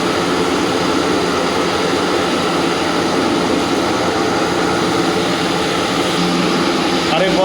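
A large floor polishing machine grinding a newly laid floor indoors, producing a loud, continuous roaring drone that holds steady throughout without pause.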